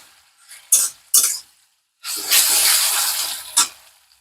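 Water poured into a cooking pan of softening tomatoes, a few short splashy bursts followed by a longer steady pour and sizzle, close and fairly loud with no talking.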